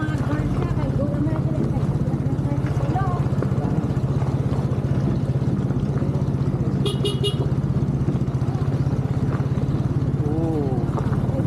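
A motorized tricycle and a truck pass on a road in a continuous loud engine drone, with a short burst of horn toots partway through and voices faintly mixed in.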